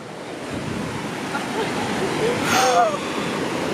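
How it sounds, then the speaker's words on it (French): Ocean waves break and wash in at Piha Beach, a steady loud surf roar with wind buffeting the microphone, swelling to a bigger crash near the end while a voice is faintly heard. "t'as vu les vagues comment elles arrivent?"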